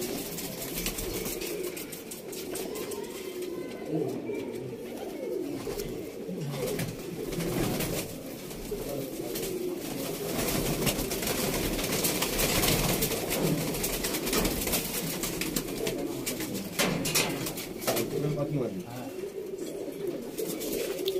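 A female pigeon coos in a busy loft, the throaty rolling calls continuing at a steady level against a dense backdrop of other birds.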